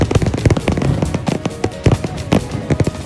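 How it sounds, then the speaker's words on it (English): A homecoming fireworks display with a rapid, dense string of loud bursts and crackling pops, sharp reports following one another in close succession. "the grand fireworks display"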